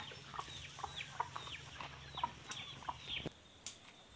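Chickens cluck around a rural Thai home kitchen, a scatter of short, quiet clucks and chirps at irregular intervals, fairly distant against a soft background, with no talking.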